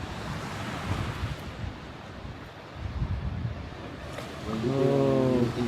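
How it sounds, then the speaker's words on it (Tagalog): Surf washing in at Valentine Harbour in Ireland, a steady broadband wash of waves close by under wind noise, with a low engine-like drone rising near the end. "So nandito tayo sa Valentine Harbor. Harbor talaga, harbor."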